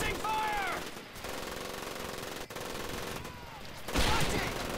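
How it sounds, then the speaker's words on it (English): Heavy machine gun fire in the Medal of Honor Pacific Assault video game, sustained dense bursts loud throughout with brief gaps and a sharper surge near the end, a voice briefly heard under the shooting. "I do not appreciate heavy machine guns being used against me."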